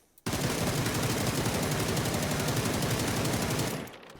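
Automatic weapon fire in the shooting game PUBG, aimed at moving targets: a steady, rapid stream of gunshots lasting over three seconds and then stopping abruptly, with no talking over it.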